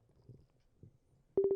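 A phone call ringback tone sounds near the end, a few steady evenly spaced beeps after a stretch of quiet low murmur and room noise.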